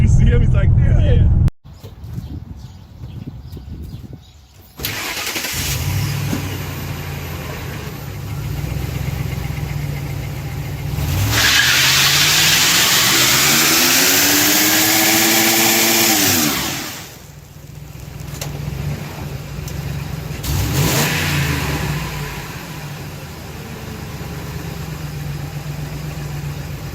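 A car doing burnouts fills the scene: its engine idles, then revs up hard in long rising and falling surges with a rough roar, amid outdoor noise and people talking in between.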